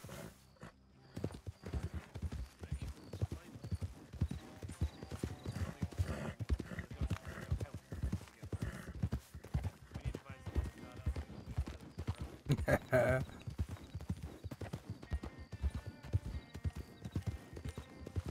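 Steady rhythmic hoofbeats clip-clop at a walking pace, close and clear, with an occasional horse whinny and game ambience, no talking.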